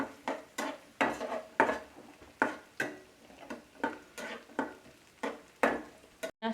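Chopped onion frying in a pan, with repeated scraping stirs over a light sizzle, regular strokes close and fairly loud.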